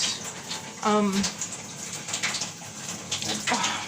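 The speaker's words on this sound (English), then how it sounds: "I'm going to flush that again" A toilet flushes with a steady rush of water, fairly close and continuous, while a brief whining voice-like tone rises over it early on.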